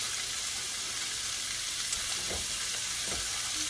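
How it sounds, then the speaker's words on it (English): Stone ground grits being stirred in a pot, a steady soft bubbling and sizzling bed with a few faint scraping sweeps of the spoon near the end, close and continuous with no talk. "Be sure to constantly stir your grits."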